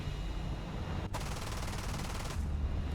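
An aircraft's machine guns fire as a steady, loud, dense burst of rapid shots during a dogfight against MiG jets, with one brief break in the middle and no voices.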